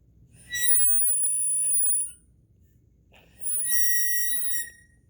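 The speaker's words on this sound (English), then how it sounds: "Got some noise there in the 10." Two short high overdraw notes on hole 10 of a Kongsheng Soloist folk harp harmonica, each about a second and a half with a brief gap between, thin and whistly with some airy noise, played alone at close range.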